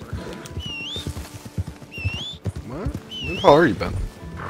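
A horse in the video game Red Dead Redemption 2 lets out a rising whinny near the end, amid game sounds and players talking over it.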